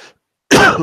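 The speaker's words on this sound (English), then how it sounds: "Excuse me for coughing" A single sharp cough bursts out close by after a brief silence, loud and rough, with a faint trailing sound before the gap.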